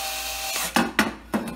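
Power drill boring through wood while building a fishing tackle box with seat and adjustable legs: a steady close whir of the bit, then three sharp loud bursts as it breaks through, with no talking.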